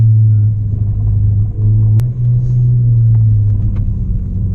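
Modified Ford Focus ST with a turbocharged engine driving through curves, heard from inside as a loud, steady low engine drone and road rumble that holds through the whole stretch, with a brief dip and one sharp click.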